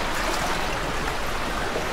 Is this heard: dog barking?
no